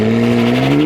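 BMW M4 fitted with a valvetronic exhaust, sliding sideways: a loud, steady engine tone with a tire squeal layered on top, sustained for about a second with no talking.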